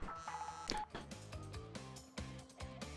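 A mobile phone sounding a quick series of beeping tones, quiet and close, with short electronic blips in an uneven rhythm over about three seconds.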